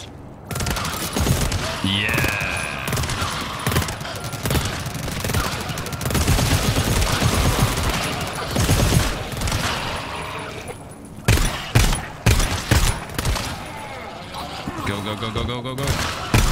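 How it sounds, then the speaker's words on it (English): Automated sentry turret in the GTFO game firing steadily at enemies packed on a staircase, a dense, sustained rattle of rapid shots with occasional bursts, mixed with game noise and a voice talking over it. "But it sounds like it's still shooting."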